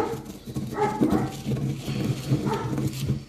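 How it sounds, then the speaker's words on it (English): A dog barks and yips outdoors near a house, short repeated calls across the clip over a busy background, moderately loud and not far off. "That dog's still barking."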